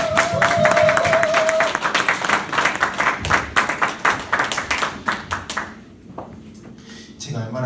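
A seated audience bursts into sustained clapping to welcome a speaker at a teachers' lecture, loud and dense at first, then thinning into scattered claps, with a short tone near the start.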